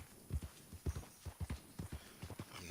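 Horse hooves clip-clop in the video game Red Dead Redemption 2, a brisk, even gait of close, thudding beats running through the short stretch without talk.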